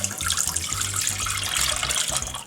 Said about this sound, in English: So to that, we're going to put in half of our milk.